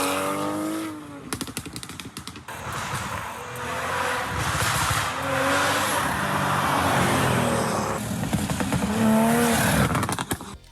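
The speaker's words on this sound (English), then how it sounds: "here's a quick clip of the Army Tricks exhaust on the Supra." A Toyota Supra fitted with an Armytrix exhaust revs and accelerates, loud throaty engine sweeps rising and falling with sharp crackles and pops between pulls, close by.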